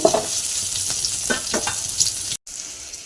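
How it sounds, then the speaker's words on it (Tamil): Onions sauté in a pan for a karpooravalli leaf chutney, with a steady close sizzle and rhythmic stirring scrapes throughout, broken by a brief dropout near the end. "வெங்காயத்தோட பச்சை வாசம் போடுறதுக்கு வதக்கிக்கிறோம்"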